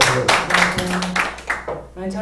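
An audience claps at a church group sharing session, a brief patter of hand claps mixed with overlapping talk and voices.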